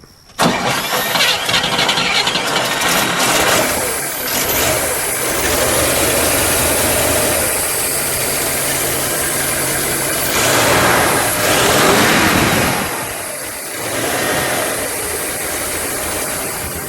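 A 1957 Pontiac Bonneville's fuel-injected V8 cranks, fires and settles into a loud, steady, rumbling idle close by, lasting throughout with slight revving swells.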